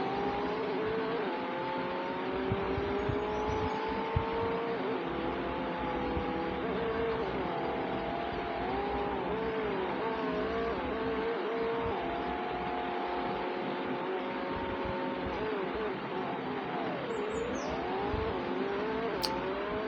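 Racing car engine from a car game droning steadily through continuous laps on a race track, pitch rising and dipping with gear changes and corners, loud and unbroken with no talk.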